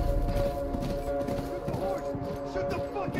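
Horse hooves gallop in rapid clip-clop rhythm in The Last of Us, a steady pounding run heard close amid game ambience, with a person talking over it.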